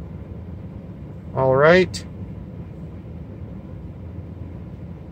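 A 2011 Suzuki SX4 engine idles at about 650 RPM, a steady low rumble running unchanged through the whole stretch, with a brief spoken phrase near the start.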